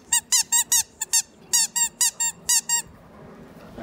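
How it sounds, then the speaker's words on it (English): A dog's squeaky candy cane toy gives a rapid run of about a dozen sharp, high squeaks in quick bursts, close and loud, before falling quiet. "It even squeaks."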